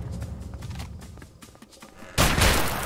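Gunfire in the video game A Way Out, rapid bursts of shots under a dense mix of game sound, ending in a loud sustained blast of firing.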